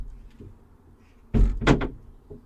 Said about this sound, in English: Trying to open the side door.